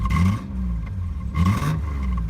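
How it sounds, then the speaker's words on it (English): A Nissan 300ZX engine idles after a cold start, a low, close, uneven rumble with slight rises and a faint clatter. "it's idling a lot better than before"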